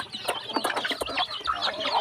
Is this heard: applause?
no